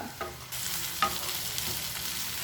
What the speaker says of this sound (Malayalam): ഇനി നമുക്കിതിലേക്ക് വെണ്ടയ്ക്ക ചേർത്ത് കൊടുക്കാം. ഇപ്പോൾ ഹൈ ഫ്ലെയിമിൽ വെച്ചോളൂ കേട്ടോ